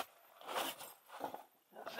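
Zippers on the fabric enclosure of a solar-powered camper van built on a recumbent trike, opened for light and air; two short rasping zips close by, with a third starting at the end.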